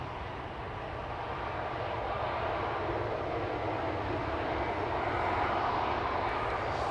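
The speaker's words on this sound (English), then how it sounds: "there is a bizjet arriving from Bratislava" A business jet arriving from Bratislava near Schiphol, its engines a continuous loud roar that swells slightly toward the end, heard alone without voices.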